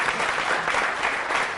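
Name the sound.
audience applause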